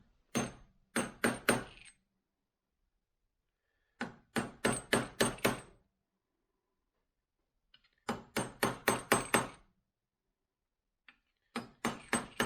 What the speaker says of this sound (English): we're going to take a punch and we're going to peen this back over in 4 spots